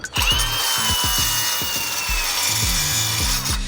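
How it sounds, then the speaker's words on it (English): A small angle grinder cuts along the keel of a corroded navy boat, its continuous high whine running loud and close from start to finish, with repeated sharp knocks and thumps underneath as the blade bites. "with the little grinder, and we're gonna cut all the way down along the keel from the bottom"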